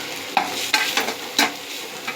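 Chilli powder, garam masala and turmeric sauté in a pan while a spoon stirs them, giving a soft sizzle with several sharp scraping strokes at irregular intervals, close and fairly loud.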